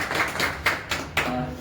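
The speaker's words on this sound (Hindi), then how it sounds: "इनके लिए भी ताली बजाओ सब।" Several hands clapping at a house-warming puja, a few loose, uneven bursts heard close by amid a small family gathering.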